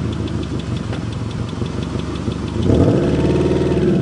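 A Subaru Legacy engine runs after its first start in two years, a close, rough mid-pitched idle with steady pulsing that rises slightly in pitch and loudness near the end.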